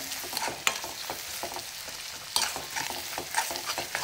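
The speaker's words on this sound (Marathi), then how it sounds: "टोमॅटो पण आपण थोडेसे अर्धा मिनिट परतून घेऊया तेलात" Tomato sautéed in oil in a pan for turi dal kanda, with a soft continuous sizzle broken by repeated scraping and stirring strokes, moderately close and with no voices.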